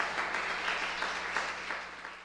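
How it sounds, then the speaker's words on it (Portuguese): A church congregation applauding during a sermon, soft and fairly distant clapping that swells in small waves, with a low steady hum underneath. "Você pode aplaudir o Senhor"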